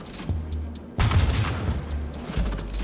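Atzkav sniper rifle shots in Star Citizen fire with a sharp, booming crack about a second in, leaving a long ringing tail. A few softer thumps and game sounds follow.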